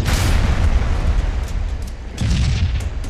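A large grenade blast in a capture-the-flag shooter game booms through the speakers as a heavy, rumbling explosion, followed by a second surge of low thunder and crackling debris, loud and sustained.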